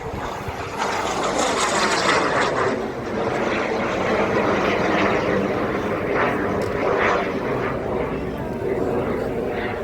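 Old propeller aeroplanes drone loudly and continuously at a large vintage air show in France, with people talking in the background.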